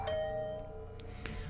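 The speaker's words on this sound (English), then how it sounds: "The bell rang again." A doorbell chimes in the video game The Hundred Line: Last Defense Academy, a clear ding-dong at the start and another about a second later over a quiet, humming background.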